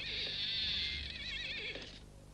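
A cartoon horse gives a loud, close whinny with a wavering, quivering tone that fades out over about two seconds, heard alone.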